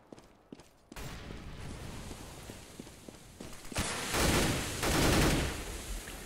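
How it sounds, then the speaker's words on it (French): Rapid gunfire from a Counter-Strike match on the Train map in a pro esports game, with bursts of rifle shots and footsteps building into louder, denser volleys in the second half. "Speedy qui va tomber sous les balles de Snax."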